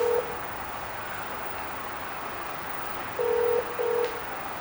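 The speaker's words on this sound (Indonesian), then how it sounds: "Oh, oke, saya telepon Yudiman." Telephone keypad tones: a short beep at the start, then two longer beeps near the end, clear and steady over a quiet background hiss.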